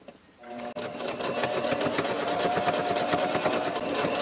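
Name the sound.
sewing machine sewing a quilted microwave protector seam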